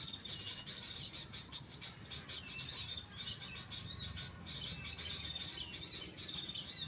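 A sooty-headed bulbul (kutilang) calls faintly in short, repeated chirps, mixed with a steady drone of insects and other birds outdoors. No one speaks.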